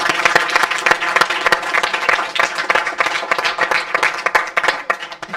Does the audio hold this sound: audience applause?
yes